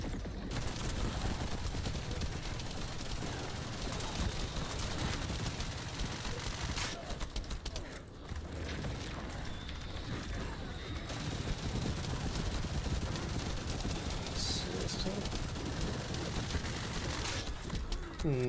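Rapid bursts of gunfire in a building and crafting video game, dense repeated shots that run almost continuously at a moderate level, with brief pauses and faint talk underneath.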